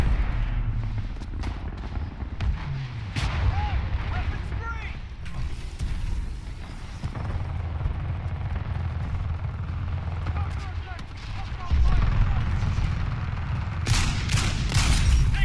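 Wingman revolver shots ring out in the Titanfall 2 shooter amid busy combat noise, several sharp single reports scattered among mechanical clatter, with a player talking over parts of it.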